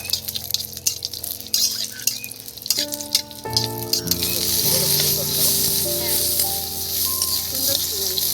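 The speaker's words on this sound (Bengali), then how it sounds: "কাজুটা ভালো করে ভেজে নিতে হবে বন্ধুরা" Cashews fry in hot ghee in a pan for Basanti pulao, a strong steady sizzle that swells after a few seconds, with light metallic clinks of a spatula and occasional speech over it.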